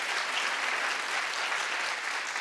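A studio audience claps steadily for a couple of seconds, a dense even wash of applause with no voices over it.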